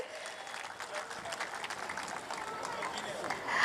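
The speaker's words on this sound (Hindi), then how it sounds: "उनके लिए भी हम ज़ोरदार तालियां बजाएंगे." Audience clapping at a spiritual lecture series session in Nashik, a steady, moderately faint wash of many hands throughout, building slightly toward the end.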